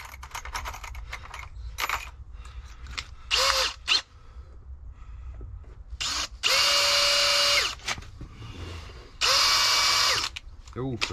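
A power drill boring a 6mm pilot hole with a blunt bit whines in two long loud bursts after shorter starts and stops, with clicks and handling noise between runs.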